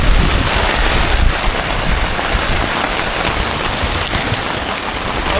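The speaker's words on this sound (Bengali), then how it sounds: "আর হাওয়াও প্রচুর উল্টো পাল্টা দিচ্ছে" Strong, gusty wind sweeps a riverside sandbank camp on the Falta river, a loud continuous roaring rush close to the microphone with no voices.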